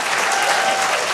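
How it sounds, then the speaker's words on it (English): Audience at a panel talk on academic freedom bursts into steady, dense applause, loud and close, filling the whole moment. "Thank our panel while clapping."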